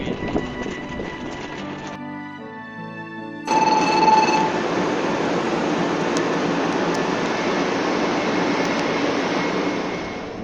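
A Shinkansen-style train runs from Hiroshima Station toward Shin-Shimonoseki. A tonal chime or announcement tone sounds first, then a steady, loud rolling rumble of the moving carriage fills the rest.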